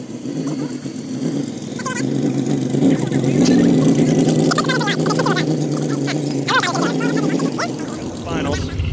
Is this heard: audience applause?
no